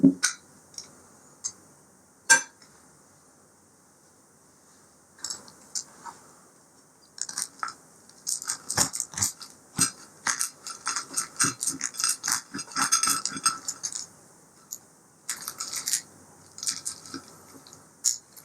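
Crisp crunching and crackling as a knife cuts a crunchy-skinned baked potato in half, in irregular bursts with pauses between, close up and fairly quiet.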